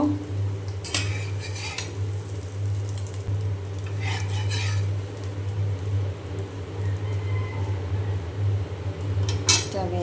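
Fried eggplant and egg are moved into a bowl with scattered clinks and scrapes of a utensil against dishes over a steady low background hum.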